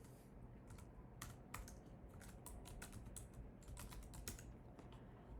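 Rapid, uneven keystrokes on a computer keyboard clatter in bursts of quick taps with short pauses between runs, fairly close but soft, with no one speaking.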